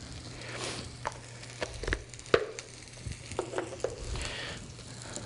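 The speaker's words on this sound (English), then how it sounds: "Gonna throw in a little butter with the potatoes because we want that flavor." Butter and potatoes in a hot pan: a soft, steady sizzle with scattered crackles and pops, fairly quiet and close, with no voices.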